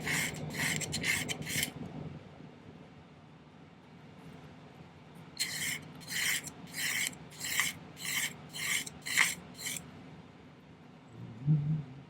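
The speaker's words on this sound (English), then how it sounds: "I'm going to try and get kind of a little bit of a taper in the piece that I'm going to cut here." Hand sawing or filing through a small silver piece for a top hat ornament makes quick rhythmic rasping strokes, first a short run of about five, then a longer run of about eight after a pause, close and fairly quiet.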